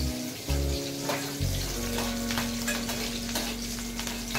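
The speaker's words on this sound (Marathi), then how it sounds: "आता मिरच्या घेते फिरून." Green chillies frying in a pan of oil for sabudana, a steady bright sizzle with stirring scrapes running throughout, close and fairly loud, with no voices.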